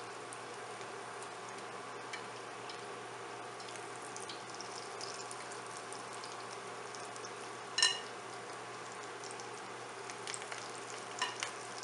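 Moong dal mangore fritters fry in hot oil with a steady, faint sizzling crackle and scattered small pops, plus one sharper tick of a spoon partway through.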